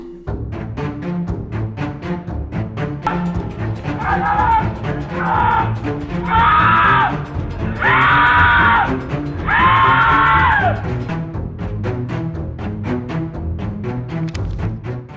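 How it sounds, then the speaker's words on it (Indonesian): A man screams in pain after an acid attack, leaving his motorbike: several loud, drawn-out cries in a row, heard over a busy, noisy background with other voices. "beranjak dari sepeda motornya dan berteriak kesakitan"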